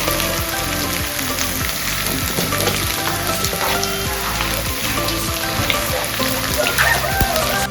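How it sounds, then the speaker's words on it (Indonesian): Anchovies frying in a pan give off a loud, continuous sizzle and crackle that stays steady throughout, with faint stirring scrapes mixed in. "Goreng teri iki sedelok wae bolo."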